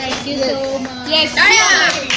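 A few people clap in a room, scattered hand claps running under overlapping chatter and a voice, close and fairly loud.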